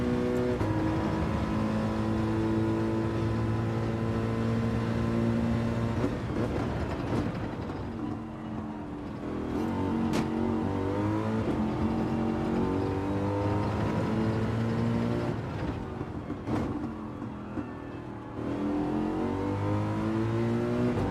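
A Mercedes race car engine in Gran Turismo 7 roars continuously through a daily race lap, its revs climbing through the gears with brief dips at each shift and on corner braking, loud and close throughout.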